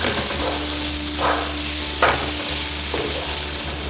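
Onions sautéing for Kerala-style beef fry, a loud continuous sizzle with a spoon scraping and stirring the pan in bursts, close up and with no talking.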